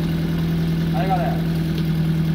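A car engine with a small hole in its cracked exhaust manifold idles steadily with a low, even hum close by, while a voice briefly speaks over it.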